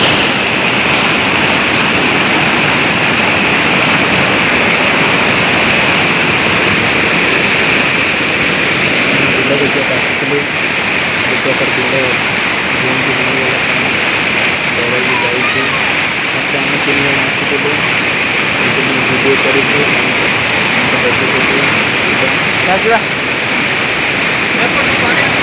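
Floodwater from heavy rain roars steadily past a small village bridge in Odisha, a loud continuous rushing that fills the scene while a voice talks faintly underneath.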